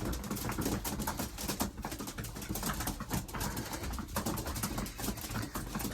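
Racing pigeons coo and shuffle in a loft, a dense continuous murmur of close bird calls mixed with scratchy rustling and tapping, with no talking.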